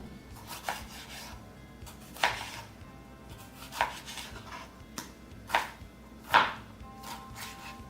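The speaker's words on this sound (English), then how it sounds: "start chopping up my tomatoes" Knife chopping tomatoes on a cutting board: a handful of sharp, separate cuts spaced a second or two apart, close by, with quiet rubbing between strokes.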